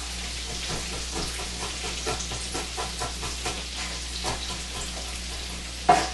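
Smashed, roughly chopped garlic cloves sizzle in a soup pot along with onions, a steady low frying crackle with scattered pops and a sharper burst near the end, no voices.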